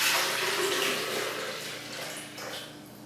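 Filtered water poured into a blender jar, a steady splashing gush that is loudest at the start and gradually eases off over about three seconds, close and alone with no talk.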